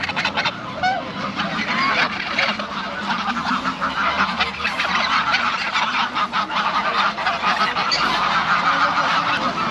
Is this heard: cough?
no